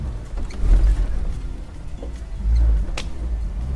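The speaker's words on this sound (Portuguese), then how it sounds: "já chegou o carro" A car arrives and parks: a low engine rumble swells twice nearby with faint mechanical knocks between, heard alone without speech.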